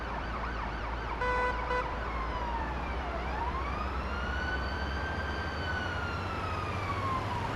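Wailing ambulance siren from an EMS video game, a steady tone sweeping up and down with a brief burst of pulsing yelp, loud and continuous with no talk over it.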